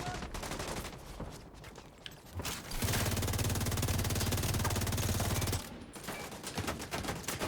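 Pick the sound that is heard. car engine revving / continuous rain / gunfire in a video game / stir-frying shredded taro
gunfire in a video game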